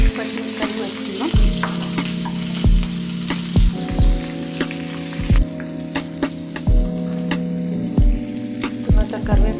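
Slit green chillies sizzle and fry in hot oil in a pan, a steady crackling hiss punctuated by regular stirring scrapes and clinks of a spoon, close and fairly loud, with no talk.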